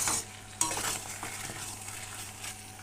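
Chicken kosha frying in a pan, stirred with a utensil: a steady sizzle with sharp scraping and clinking strokes, one loud scrape early on, close and without talk.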